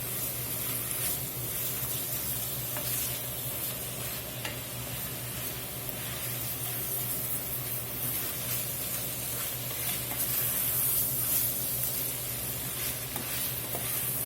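About a tablespoon of garlic sizzles and fries in a pan for spicy pork pastalaya, a steady close hiss with occasional stirring scrapes and no talking.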